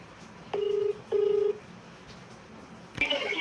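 Two short keypad dialing tones beep in quick succession on a phone placing a late-night call, followed by a brighter electronic tone as the call starts, all fairly quiet over a faint background hush.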